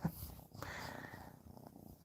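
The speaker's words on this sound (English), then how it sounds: "You hear the kitten purring?" A kitten purrs close by as a soft, continuous low rumbling with faint breathy texture, quiet and steady throughout.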